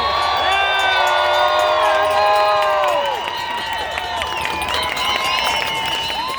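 A large crowd at an anti-lockdown freedom rally in Toronto cheers and whoops loudly, with scattered shouts and applause swelling over the first three seconds before settling into a sustained, noisy roar.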